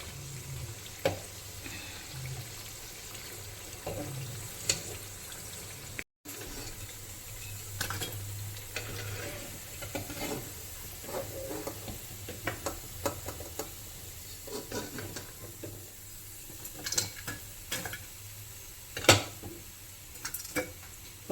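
Masala vadas fry in hot oil with a faint, steady sizzle. Scattered clinks and stirring noises from a pan and utensils cut through it now and then. No one speaks.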